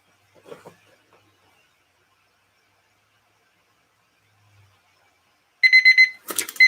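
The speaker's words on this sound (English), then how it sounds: "And there's the timer." During a live pouring and auction stream, a timer alarm breaks a near-silent room with a burst of rapid, loud electronic beeps in quick pulses, preceded by faint incidental sounds.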